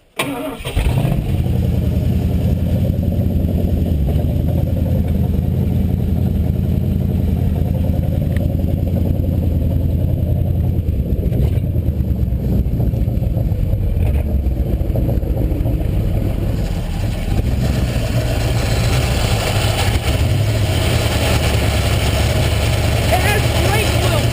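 A Ford 351 V8 car engine rumbles steadily at idle, deep and close, running continuously throughout with a slight dip partway through.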